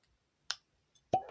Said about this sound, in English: Pause for the cork pop.